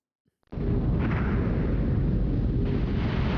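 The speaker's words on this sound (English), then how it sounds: "Emergency blow. All stop. Blow main ballast." Emergency blow of a submarine's main ballast tanks in the 1995 FMV game Silent Steel: after a moment of near silence, a sudden loud roaring rush of high-pressure air bursts in and holds steady and powerful to the end.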